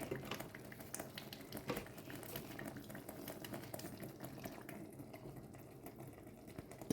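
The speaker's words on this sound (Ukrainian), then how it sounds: "Ось так булькає в мене ікра." Zucchini caviar bubbles and blips softly as it boils in a pot, with a faint, steady simmering texture and no talk.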